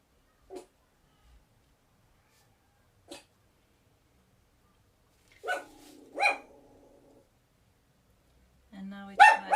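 A pet dog named Silas barks indoors a few times in short, sharp bursts, widely spaced at first and then louder and closer together, with a voice briefly heard as well.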